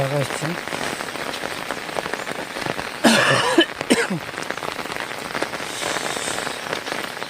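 Heavy rain pours steadily onto a surface, a dense continuous hiss that swells louder for a moment partway through, with no other sound standing out.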